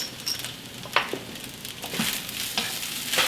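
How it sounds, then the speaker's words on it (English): Kimchi fried rice is stirred around a hot frying pan, soft sizzling broken by repeated scrapes and taps of the utensil, close and fairly quiet. "Mix it all together."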